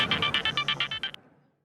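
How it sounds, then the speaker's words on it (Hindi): A mobile phone rings with a repeating electronic ringtone, about ten evenly spaced bursts in just over a second before stopping abruptly, clear and close in an indoor domestic scene from a TV crime drama. "अरे देखिए तो सही किसका फोन है।"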